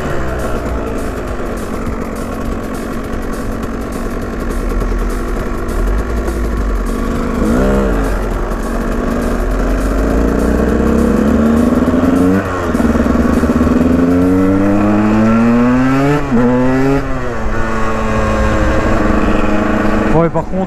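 A KTM 125 EXC motorcycle engine runs loud and close, idling with a rough buzz before several rising revs that climb and fall in pitch.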